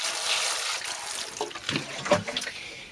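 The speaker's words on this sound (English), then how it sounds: "you need to give the compost a good old water" Compost in seed trays, sown with cosmos, candytuft, cottage garden mix and sunflowers, is watered at an allotment, heard as a soft, close sprinkling and trickling that swells in short uneven bursts.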